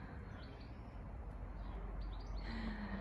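A small bird calls in a garden: faint, brief chirps and tweets come at a distance over a steady low background hum, with no talking.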